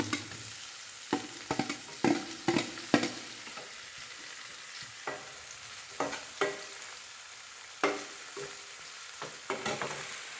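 Onion and tomato frying in a pan for a quick wild bharangi vegetable dish, with a low steady sizzle broken by intermittent scraping stirs from a spoon, close and moderately loud.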